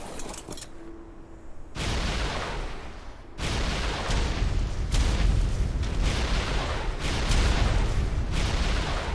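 In Ark: Survival Evolved, rockets blast against a Rock Elemental: a faint opening hit, then a dense run of heavy explosions rolling into one another with deep rumble, loud and close, no voices.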